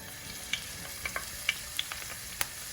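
Aubergine frying in sunflower oil over high heat, giving a soft, steady sizzle with scattered small pops and crackles throughout, close up and fairly quiet.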